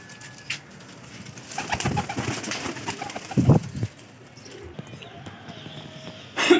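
Teddy pigeons in Lahore give soft, low coos in short bursts, with some fluttering and shuffling around them, fairly close and moderately loud.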